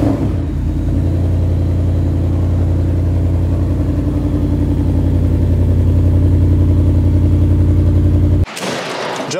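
A modified Ford Bronco engine runs loud and close, with a deep, steady rumble and a slightly pulsing idle that continues for several seconds before cutting off abruptly.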